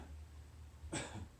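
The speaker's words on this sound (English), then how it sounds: "just do a gentle cough" A single soft cough, brief and close, during a gentle yoga breathing exercise, set against a quiet room hum.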